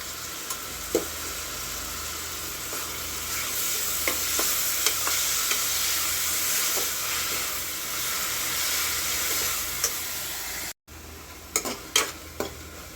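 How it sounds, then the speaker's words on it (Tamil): Tomatoes sauté with ginger, garlic and a little salt in a pan for a drumstick kurma, sizzling and frying steadily with scraping stir strokes, a brief break, then sharper stirring clatter, and no talk. "தக்காளி பழத்தை அது கூட சேர்த்து வதக்கிக்கிடலாம்."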